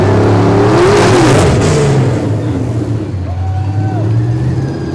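A car drives past during the 2023 Bennington Battle Day Parade, its engine loud and close and rising as it revs, then fading with traffic rumble, heard under an announcer.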